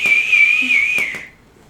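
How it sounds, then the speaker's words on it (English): A person whistles a short melody, a single loud close sustained whistled note line that wavers slightly in pitch before fading out. "If I whistle it, then you can't get it copyright infringement"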